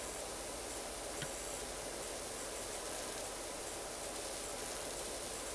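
A pressure washer sprays a steady, loud hiss in PowerWash Simulator, the jet running continuously without pause and no voices over it.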